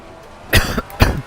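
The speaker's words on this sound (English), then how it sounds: "in the middle of practice, the coughing started again" Two sharp, close coughs about half a second apart, part of a recurring coughing fit during sim-racing practice in Assetto Corsa Competizione VR, with quiet background between them.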